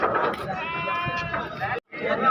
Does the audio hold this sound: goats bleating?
yes